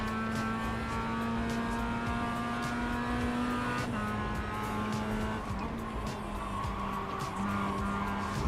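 Race cars circle a track with engines droning at sustained pitch while tires squeal in long whining streaks, a loud continuous mix with no pauses.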